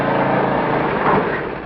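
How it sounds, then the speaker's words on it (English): A lawn mower engine running in a short, steady, fairly loud burst that fades slightly at the end. "Pesky lawnmower."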